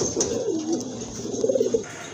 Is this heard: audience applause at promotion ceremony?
no